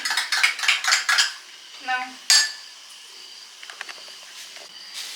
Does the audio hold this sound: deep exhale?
no